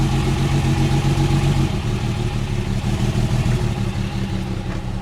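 Engine of a 1969 Mercedes 280SE pulling steadily in second gear, a loud, continuous near mechanical drone with a slight dip partway through, no voices.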